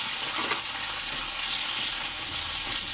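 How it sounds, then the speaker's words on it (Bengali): Okra (bhindi) frying in hot oil gives a steady, close, loud sizzle with a dense hiss that holds evenly throughout, a faint stirring scrape now and then, and no voices. "আমি আগে ভেন্ডিটা লাল লাল করে ভাজবো"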